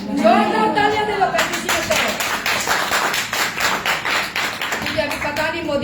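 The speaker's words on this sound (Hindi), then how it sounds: "तालियां दे लो" Audience at a Christian preaching gathering claps in a steady rhythmic beat for several seconds, with a voice speaking over the clapping.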